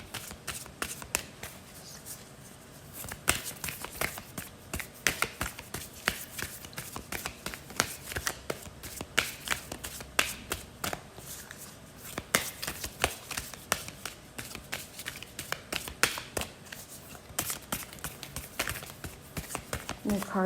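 Tarot and oracle card decks are shuffled continuously at close range, making a steady crisp riffling and flicking texture with soft slaps, for the whole span with no break.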